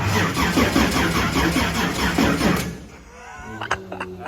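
An engine startup attempt in a shop: a mid-pitched engine cranks and runs roughly for a couple of seconds, then cuts out, leaving a few clanks and faint voices nearby.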